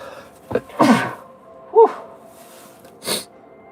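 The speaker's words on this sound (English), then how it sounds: "Oh, man, I got to sneeze really bad." A sharp, close allergy sneeze with a quick inhale before it, followed by a couple of softer breaths and snuffles.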